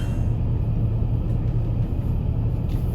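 Steady low engine rumble from a Jeep driving off-road, close and continuous, with a constant drone of drivetrain noise throughout and no talking.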